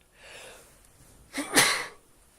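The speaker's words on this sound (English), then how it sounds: "Oh god, I have to sneeze." A single sharp human sneeze, preceded by a soft indrawn breath, close to the microphone and alone without talk.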